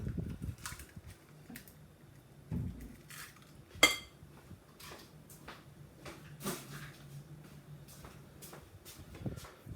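Ingredients for a bake-off recipe being mixed in a mixing bowl in a home kitchen, with faint, irregular scraping and clinks of utensil against bowl and one sharper knock.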